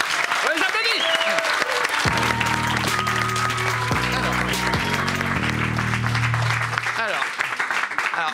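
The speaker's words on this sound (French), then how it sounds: "j'applaudis" A small studio audience claps steadily and loudly while low synth-like music plays underneath, the applause continuing throughout.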